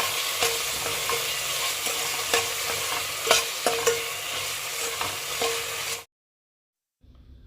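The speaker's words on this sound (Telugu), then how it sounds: "ఒక మీడియం సైజ్ టొమాటో చిన్న ముక్కలుగా కట్ చేసుకొని వేసుకొని బాగా ఫ్రై చేసుకోవాలి." Chopped medium tomato pieces sizzle in a hot pan with turmeric while a spoon scrapes and stirs them in irregular clicks, steady and close for six seconds before cutting to near silence.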